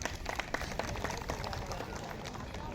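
A crowd at a political rally in the Mandar assembly constituency of Jharkhand claps, producing a dense patter of many hands that comes through as a moderate, steady burst of applause.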